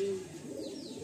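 A red pigeon coos softly in a loft, giving a faint, steady low murmur over quiet background noise.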